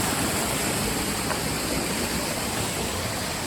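A waterfall on a mountaintop hike roars in a steady, dense wash of broadband rushing water that stays constant and loud throughout, with no voices.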